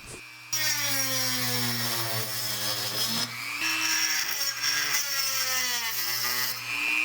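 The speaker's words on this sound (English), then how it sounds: "So I'll just grab my Dremel tool and I'll cut it off of the frame." A Dremel rotary tool cuts a part off the frame of a DVD player, giving a close, loud, steady high whine whose pitch dips and rises as the bit bites into the material over about seven seconds.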